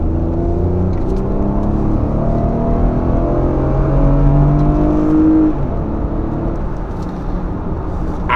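A 2019 Lexus RX 350 in sport mode accelerates hard along a road: a steady, loud engine drone builds in pitch as it pulls through one gear without kicking down, with wind and road roar under it and no voices.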